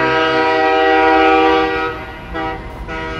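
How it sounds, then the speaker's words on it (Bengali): Train running in a Bengali village ghost story, a loud, steady rumble with strong horn-like tones that fades toward the end, heard alone. "ট্রেনের আওয়াজে ভাবনাটা কাটল। হাওয়ার গতিতে ট্রেনটা চলছে।"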